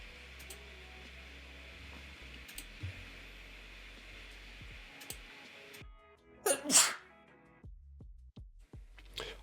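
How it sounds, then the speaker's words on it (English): A sneezing fit breaks the quiet: a loud, sharp sneeze burst near the middle, set against faint clicks and taps at a desk. "I had a sneezing fit."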